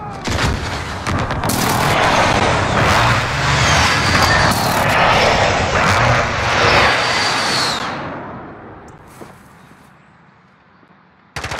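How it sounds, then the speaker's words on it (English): Aircraft roaring overhead during a precision airstrike in Call of Duty Modern Warfare Search and Destroy, a loud sustained rumble with rapid blasts and gunfire for several seconds before fading out. "Friendly precision airstrike on the way."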